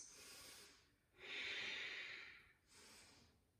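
Deep Ujjayi yoga breathing during a flow class: three slow, close, airy breaths with a hissing throat constriction, the middle one longest and strongest, with no talking.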